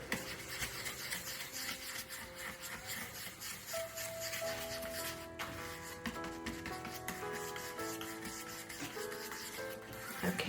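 Dry brushing paint onto a cardboard bath tissue roll makes a soft, steady bristle rubbing, quiet and close, repeating in short scratchy strokes under faint background music.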